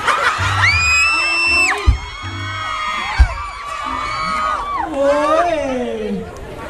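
A crowd at a Thai stage event shouts a short rhythmic cheer chant in unison, loud and close, with whoops and scattered yelling mixed in and a couple of sharp bangs.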